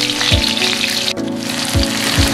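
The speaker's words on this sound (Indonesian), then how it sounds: "Nanti setelah panas baru kita masukin bawang merah dan bawang putihnya." Garlic sizzles steadily in hot cooking oil with a dense, close crackling hiss, broken by a few soft low thumps as it is stirred, with no one speaking.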